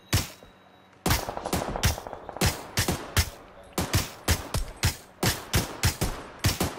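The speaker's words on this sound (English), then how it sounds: "I hear shots, I just can't see them." Repeated gunshots and bursts of automatic fire in the PUBG battle royale game on the snowy Vikendi map at night, sharp cracks in irregular clusters at moderate distance with no talk over them.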